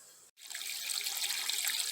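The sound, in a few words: water filling grow bed, draining through siphon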